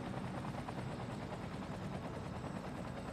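Helicopters in the city-building game Cities Skylines give off a continuous, dense rotor whir that stays steady and loud throughout, with no talk over it.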